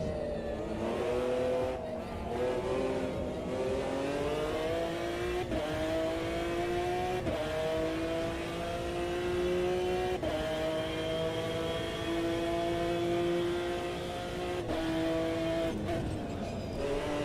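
Race car engine in the Automobilista 2 racing sim, revving hard with quick rising and falling pitch sweeps as it blips on downshifts, loud and continuous throughout with no talk.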